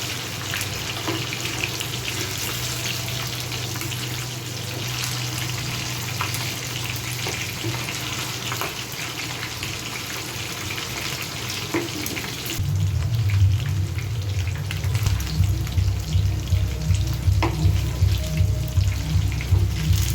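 Shami kofta fry in hot oil with a continuous close sizzle; midway the sound turns heavier and lower, with a rhythmic bubbling throb under the crackle.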